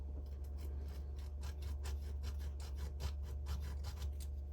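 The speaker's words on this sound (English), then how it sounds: "we sand it back and forth so that we got a good good contact for sanding it" Repeated rasping strokes of sanding on a small part of a Lionel 2046W model train tender, a steady back-and-forth rhythm of quick scrapes over a low constant hum, close up.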